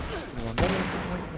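A single sharp gunshot rings out in the video game Fallout 76 partway through, followed by a short echoing tail over a background of game ambience.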